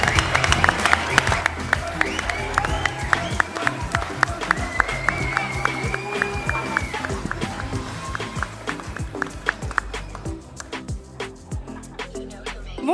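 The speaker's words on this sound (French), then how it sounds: "Un tonnerre d'applaudissements pour eux." An audience at a youth prevention comedy festival applauds a performing group from Meaux: dense, steady clapping and crowd noise, fairly loud and continuous, tapering off near the end.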